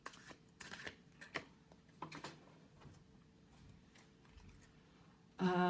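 Glossy, oversized Nordic tarot cards are riffled and slid together in several quick bursts of crisp papery flutter and soft taps, close and quiet, followed by a brief moment of speech at the end.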